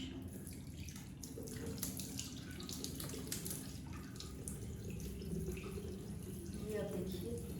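Tap water runs into a sink while makeup is washed off the face with face wash, a soft, continuous splashing with small drips and hand rubbing, heard close and faint.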